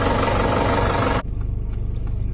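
A tractor engine runs at an outdoor farm gathering, a loud dense rumble that cuts off abruptly midway, leaving a lower, quieter engine chug with a steady pulsing beat.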